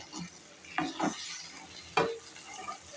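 Okra frying and being stirred in a pan, with a few bursts of stirring and scraping over a soft, steady sizzle, close up and without talk.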